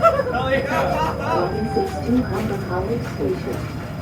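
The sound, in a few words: train announcement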